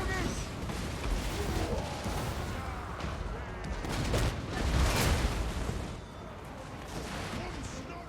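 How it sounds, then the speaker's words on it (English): Cannon fire in the video game Warhammer 2: Total War booms in dense, overlapping blasts during a battle. The barrage peaks near the middle, and no clear talk is heard. "Cannon! Shoot them."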